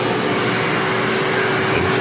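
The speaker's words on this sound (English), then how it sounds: "And we're gonna turn on the central vac." A NuTone central vacuum cleaner runs at a loud, constant roar with a steady whine, unbroken for the whole stretch.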